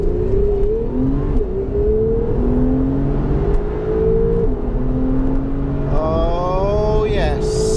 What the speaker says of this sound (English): Full bore acceleration.